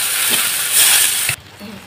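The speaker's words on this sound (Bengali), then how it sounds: "এর মধ্যে আমি জল ঢেলে দিলাম।" Water poured into a hot pan of curry leaves and chopped green chillies throws up a loud, close steaming hiss that cuts off abruptly, leaving quiet room noise.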